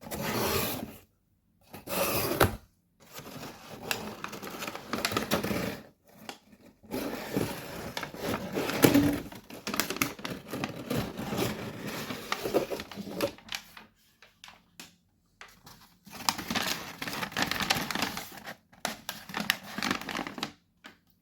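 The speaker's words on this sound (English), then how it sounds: "Lovely crinkly paper there." Crisp crinkling and rustling of paper wrapping being handled up close while unboxing a Blake's 7 Series 2 collection, in bursts with short quiet gaps between them, no voices.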